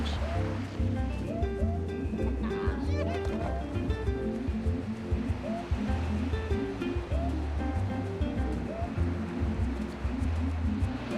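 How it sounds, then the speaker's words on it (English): Large warm Pacific surf breaks continuously on the black volcanic-sand beach at Monterrico, Guatemala, a steady close roar of waves with a voice speaking over it. "The water is warm and the waves are huge."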